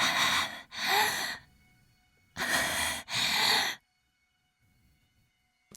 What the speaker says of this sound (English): I heard panting in my ear